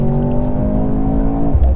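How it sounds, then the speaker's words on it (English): A 2023 Mercedes-AMG C43 launches at full throttle from a race start: a loud, close engine roar with a steady droning tone that drops sharply near the end. "floor the throttle. Race start, release the brake"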